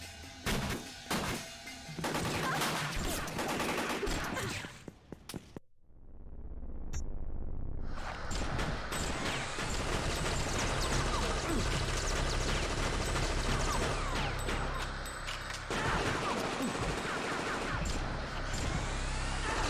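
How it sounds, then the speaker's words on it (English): Gunfire erupts in the PlayStation video game Fear Effect: dense bursts of automatic shots and heavy thuds, loud and close, broken by a brief near-silent gap before the barrage resumes. "Why are you shooting?"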